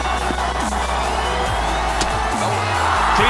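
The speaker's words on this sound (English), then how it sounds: "Listen to this crowd." Cricket crowd cheering a clean-bowled wicket by fast bowler Shoaib Akhtar, a dense, loud roar of many voices filling the stadium, with whoops and whistles rising toward the end.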